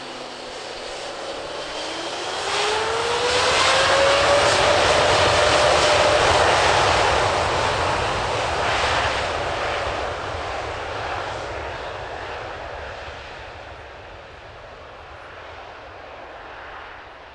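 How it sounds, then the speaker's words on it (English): A nearly empty Boeing 777X-9 powered by two GE9X engines takes off and climbs steeply at the Farnborough airshow, building to a loud jet roar with a rising whine that peaks, then slowly fades into a distant rumble. "Demonstrating some very impressive climb performance there, with the aircraft flying almost empty so as to reduce its weight"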